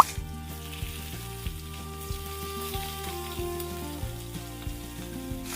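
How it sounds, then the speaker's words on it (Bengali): Nigella seeds, chopped tomato and four green chillies fry in oil for a Bengali panchmishali vegetable dish, a steady low crackle and sizzle running under background music. "সেই তেলেই দিয়ে দিচ্ছি একটু কালো জিরে ফোড়ন, দিয়ে দিচ্ছি টমেটো কুচি, আর আগে থেকে কেটে রাখা 4টে কাঁচা লঙ্কা।"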